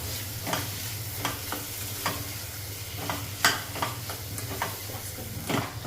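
Spice masala sizzling in a pan for an Indian onion-leaf bhaji, a constant close hiss of frying with intermittent scrapes and taps of a spoon stirring, no voices.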